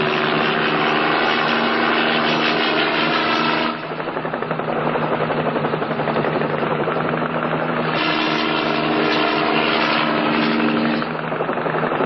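Helicopter flying overhead above mountain terrain, a loud continuous rotor chop and engine whine that holds steady with slight swells, no voices over it.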